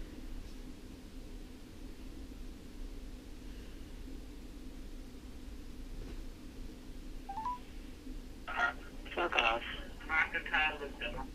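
A cell phone dialing a number, with a quick run of bright key tones arriving near the end after a stretch of low line hiss, fairly faint and clear with no talk over the tones.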